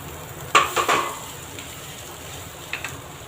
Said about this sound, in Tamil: 2 உருளைக்கிழங்கு எடுத்து வச்சுருக்கேன். நம்ம இதில் போட்டு நல்லா கலந்து விட்டுடலாம்.